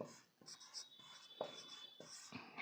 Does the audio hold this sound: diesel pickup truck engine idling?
no